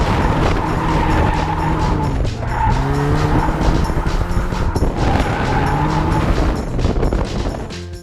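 A Nissan S14 drifts around Adams Motorsport Park, its engine revving hard and rising in pitch while the tires squeal in long, loud howls that repeat through the run with no talking.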